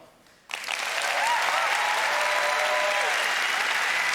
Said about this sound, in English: He knows how to get the applause.